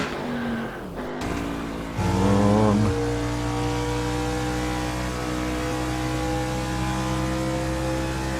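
Hyperion 2020 stock car engine from Assetto Corsa at California Raceway, droning steadily at high revs, with a brief upshift-like dip near one second and a louder rising surge around two seconds before settling into a sustained loud roar.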